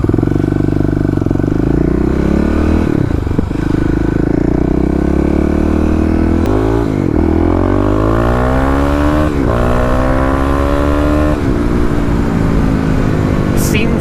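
A Kawasaki KLX351 motorcycle engine revved during a pre-dyno test, several loud rising and falling revs close up, the pitch sweeping up repeatedly over a constant engine drone.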